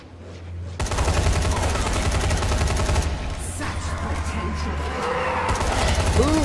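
Gunshots in the zombie game Dying Light: The Following, a sudden loud volley of rapid shots that runs for several seconds with game sounds and a voice mixed in.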